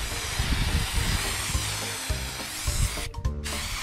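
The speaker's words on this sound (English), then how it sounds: "So I'm just using adhesive, contact spray adhesive." A continuous close hiss of contact spray adhesive from an aerosol can running for several seconds, cutting out briefly near the end before resuming.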